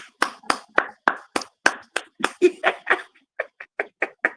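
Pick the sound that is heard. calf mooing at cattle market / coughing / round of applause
round of applause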